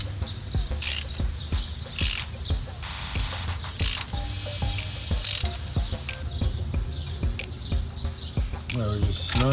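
A hand ratchet clicks in quick bursts while snugging Bosch spark plugs on a 2001 Honda CR-V, sharp repeated pawl ticks separated by brief louder scrapes and clanks, close to the microphone.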